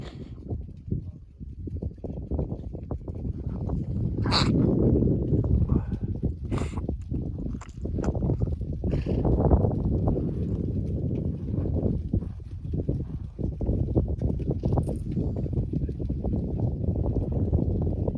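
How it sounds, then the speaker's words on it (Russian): Free-grazing horses walk outdoors on a mountain pasture beside clear water, hooves clopping irregularly over a steady rush of wind or water, with a few sharper knocks along the way. "Лошади идут."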